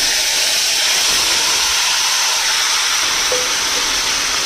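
Lightly smashed yardlong beans hit a hot pan where chillies have been frying, making a loud, even hiss that holds steady and close throughout with no talking.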